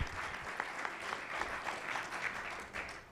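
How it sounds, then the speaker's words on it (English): A luncheon audience at a press club applauds after a speech, faint but steady clapping from a room of many people, heard from a distance. "How about a round of applause for that speech while we transition here?"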